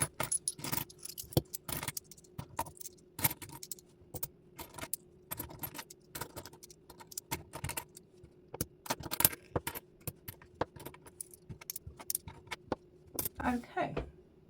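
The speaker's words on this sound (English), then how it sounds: "I'm going to quickly organise all these coins and we can start putting them away." A pile of coins is sorted by hand, with rapid irregular metallic clinks and jingles as they are shuffled and stacked, close and fairly loud throughout, while someone talks briefly.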